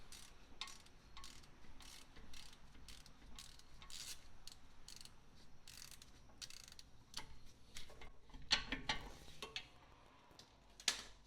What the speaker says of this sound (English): A few more rotations on the top bolt.